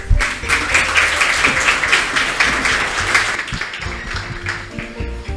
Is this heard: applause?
yes